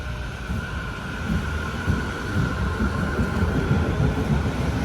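A train passing nearby in Germany, a continuous rumbling roll of wheels on rail with rhythmic clatter and faint wind noise, heard alone with no voices.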